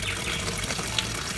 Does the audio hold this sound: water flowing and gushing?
yes